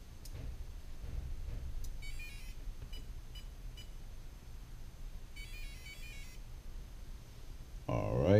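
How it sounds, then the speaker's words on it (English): Startup beeps from the ESC of a 1/8-scale RC car on a 3S battery after a reset, two short bursts of beeping tones over a steady low background hum, with a louder noise at the very end. "let me reset the ESC so you can hear the beeps"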